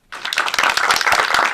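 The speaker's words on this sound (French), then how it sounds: "on commence par applaudir aussi très fort Alutal qui va prendre la parole" Loud, dense audience applause with clapping starting abruptly and holding steady, close and continuous, with no talking.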